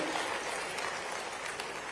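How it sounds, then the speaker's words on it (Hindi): A crowd at a regional industry conclave claps steadily in a faint, distant wash of applause lasting a couple of seconds. "ताली वाली बजाओ भाई"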